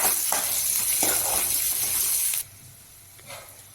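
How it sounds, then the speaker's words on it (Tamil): Rock salt and asafoetida being sautéed for a red-stem amaranth keerai kadaiyal, a loud close hiss and sizzle that cuts off abruptly, leaving a faint sizzle with a few soft clinks. "கொஞ்சம் கல் உப்பு கொஞ்சம் பெருங்காயத்தூள் சேர்த்து நல்லா வதக்கணும்"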